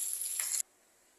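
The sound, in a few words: fish frying in a pan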